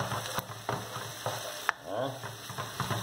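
Calabresa sausage frying in a pan and being stirred, a steady close sizzle with repeated scraping strokes and a few sharp clicks of the utensil against the pan.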